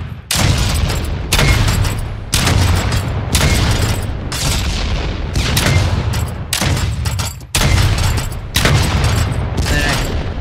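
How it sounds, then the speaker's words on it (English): A grenade launcher in the video game Project Stray fires repeatedly, each shot a loud, heavy boom with a long rumbling tail, about eight blasts in a fairly steady rhythm, close and dominant. "if I fire all of the grenades,"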